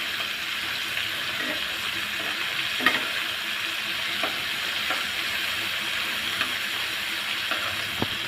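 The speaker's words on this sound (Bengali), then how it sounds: "চিংড়ি মাছগুলো ভাজা হয়ে গেছে" Shrimp frying in oil in a wok, a continuous close hiss with scattered clicks and a few louder knocks as pieces are turned.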